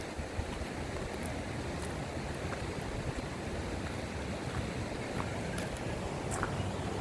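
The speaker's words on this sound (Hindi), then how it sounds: "पानी का शोर" Waterfalls rush among soft limestone rocks at Baghaow in Balochistan, a dense, unbroken roar of churning water at steady loudness throughout, with no voices.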